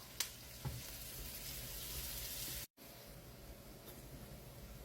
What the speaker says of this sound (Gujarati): હવે આપણે આને ગોલ્ડન બ્રાઉન થાય તો સુધી થોડીક શેકી કાઢીશું.